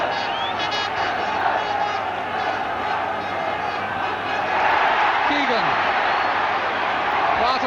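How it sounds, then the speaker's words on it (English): Liverpool home crowd at the 1976/77 European Cup quarter-final second leg against St Etienne, a loud, constant stadium roar and chanting that swells slightly, with faint whistles and a commentator talking over it. "Crowd really warming to the sway and the cut and thrust of this European Cup"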